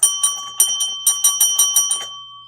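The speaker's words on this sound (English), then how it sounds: "This is my ding dong to get Ash's attention when I need help and I can't talk" Handheld call bell rung about ten times in quick, uneven succession, each bright metallic ding close and loud with a short ringing tail that fades out after the last strike.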